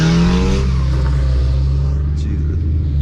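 A Ford Mustang engine roars loudly and continuously while drifting on a wet street in the rain, holding a deep rumbling rev that eases slightly as it goes on.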